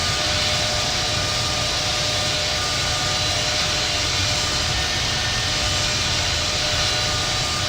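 Simulated Boeing 777-200 airliner in American Airlines livery taking off from Los Angeles runway 25 right in the flight game Infinite Flight: a steady, loud broadband jet engine roar with low rumble and a faint whine, continuous and without voices.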